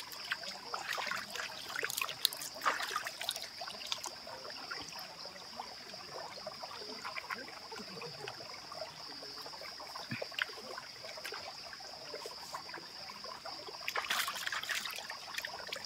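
Cold water trickles and splashes while someone bathes in a forest, a soft irregular dribbling with occasional louder splashes, close and moderate in level over a faint steady high insect whine.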